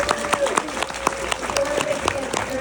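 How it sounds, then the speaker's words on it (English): Audience applause at a Q&A with the cast and director of the TV series Those About to Die, moderate clapping with sharp individual claps standing out, mixed with a voice talking over it. "this gets thrown out by even more applause"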